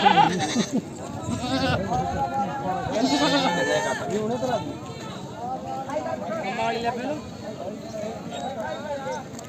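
Goats bleat repeatedly amid a busy crowd at a goat market, with people talking loudly throughout and occasional animal movement nearby.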